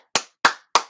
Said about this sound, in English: You deserve a round of applause, Jabri.